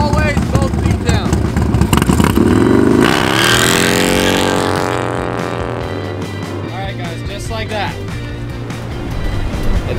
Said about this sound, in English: First, we're just gonna practice like taking off and doing a burnout.